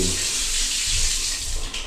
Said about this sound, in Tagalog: ma-appreciate na ni owner na maligo dito na malakas yung tubig